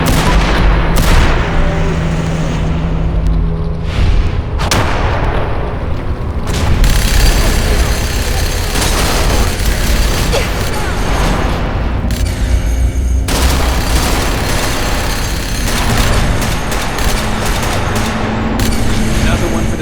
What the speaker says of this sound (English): it's good to see artillery here again